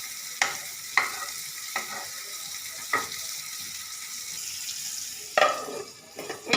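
Potatoes frying in a small amount of oil in a pan while being stirred, with steady sizzling and a handful of sharp scraping knocks of the spatula spaced through it, close and clear.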